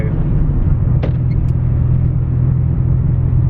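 A car's engine rumbles steadily from inside the cabin while driving, a constant low drone with no breaks. There is one faint brief tick near the start and no speech.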